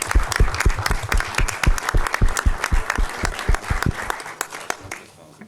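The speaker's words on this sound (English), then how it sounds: "And big applause for that." Audience at an international conference in Varna applauding, a dense burst of clapping from many hands that fades out near the end.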